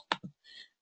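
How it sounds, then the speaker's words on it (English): A couple of sharp, close key clicks on a 15-inch laptop keyboard, followed by a short soft hiss, with no talking. "typing on a laptop with a 15-inch"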